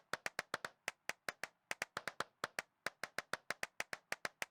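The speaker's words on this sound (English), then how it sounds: "I'm clapping like no one's business" Steady hand clapping inside an abandoned church, about four or five claps per second, crisp and close, with brief pauses between short runs.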